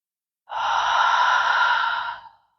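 A single deep yoga breath heard close up, one long airy breath lasting about two seconds that rises quickly, holds steady and fades out, alone with no talk.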